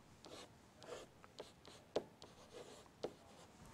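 Pen or pencil writing on paper while working a logarithm math problem, soft close scratching strokes with a few sharper taps, quiet and steady without talk.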